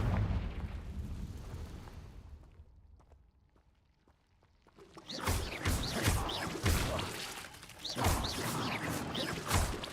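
Confringo blasting spell in Hogwarts Legacy: a loud, dense wash of booming explosions and crackling impacts erupts after a quieter lull, sustained and close, with no voices.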